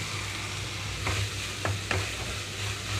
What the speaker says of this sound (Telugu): అలాగే టమాటో కూడా వేసేసుకుంటున్నాను